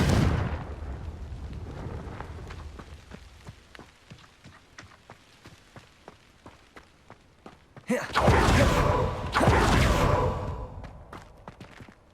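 A Confringo spell explosion in Hogwarts Legacy, a sudden loud fiery blast with a roaring, crackling burst lasting about two seconds before fading, following quieter rumbling and scattered ticking impacts.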